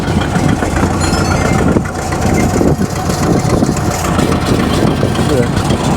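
A 1972 Chevy C/50 truck with a big-block engine and a Schwartz bed runs loud and close at a steady, rough idle, its rumble continuous throughout.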